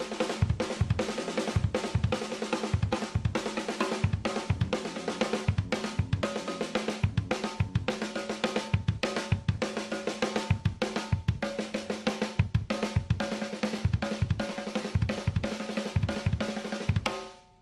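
A continuous driving drum groove played on snare, kick drums and timbales, with dense rapid hits and steady low kick pulses running for over fifteen seconds before stopping abruptly, loud and close with no voices.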